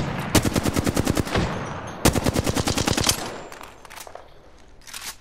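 Automatic weapon fire in the video game Apex Legends, two long rapid bursts of evenly spaced shots, loud and close, followed by a few scattered fainter shots.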